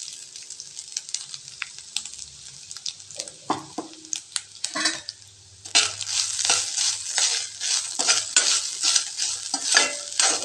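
Grated coconut sautéing in hot oil for coconut rice, close sizzling with repeated scraping stirs that grow louder and busier in the second half, no voices.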